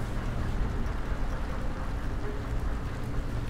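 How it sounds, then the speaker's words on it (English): Machinery still running inside a torpedoed ship in the video game Silent Hunter 4 makes a steady, dense low rumble with a faint watery hiss on top, unchanging throughout. "Still hear machinery running inside of there"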